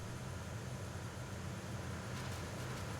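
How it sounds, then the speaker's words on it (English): Steady low rumbling machinery drone fills a ship's engine room aboard a tanker in Metal Gear Solid 2: Sons of Liberty, a continuous hum with broadband hiss and no distinct events. "this area, which I believe is the engine room"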